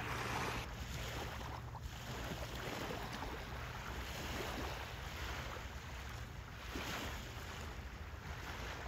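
Gentle surf washes steadily onto a quiet morning beach at San Felipe, Baja California, with a soft continuous wash of waves and light wind across the microphone, no voices.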